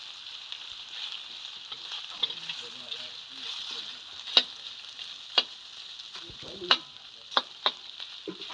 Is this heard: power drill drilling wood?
no